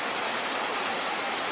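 A mountain stream in Quebrada del Batán, Córdoba, Argentina, swollen and slightly brown after heavy rain, rushes steadily close by as a dense, continuous hiss of flowing water with no pauses.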